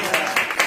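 A church congregation applauding in brief, rhythmic waves of clapping, loud and close, with the swells arriving in quick succession.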